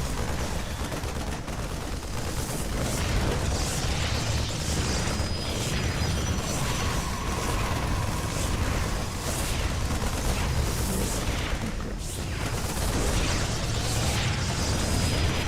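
Cannons blowing up during a StarCraft 2 match, a dense wash of rumbling booms and bursts continuing steadily throughout, loud and close with no speech.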